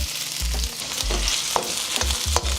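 Sliced onions sizzle and crackle in hot cooking oil at the start of a chicken chow mein, a loud, close, steady frying hiss with occasional pops and stirring scrapes.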